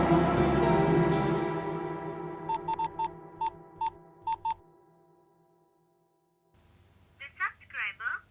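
Mobile phone call to an unreachable number in a Tamil household drama, with a series of short electronic dialing beeps in an irregular run after a fading background sound, then silence, followed by a brief tonal warbling signal.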